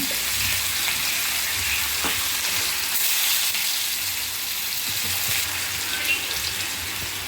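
Radhuni seeds and chopped garlic fry in hot oil for a foloi fish and water lily stem curry, giving a loud, continuous close sizzle with occasional stirring clicks.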